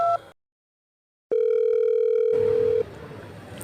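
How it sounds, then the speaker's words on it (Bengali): A telephone dial tone hums as a call is placed: brief tones, then silence, then a single sustained steady tone for about a second and a half before giving way to faint background noise. "এবার বিরক্ত হয়ে অতীনকেই ফোনটা লাগালো।"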